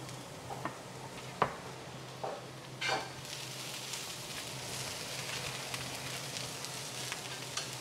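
Plain and green cauliflower stir frying in a pan, a quiet steady sizzle with occasional scraping clicks and clatters from stirring, no voices.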